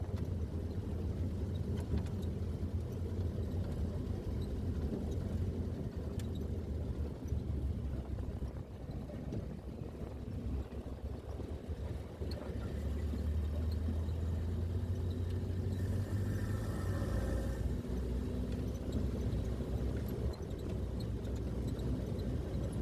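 An off-road jeep engine rumbles steadily while riding, a low continuous drone with road and wind noise throughout and no clear speech.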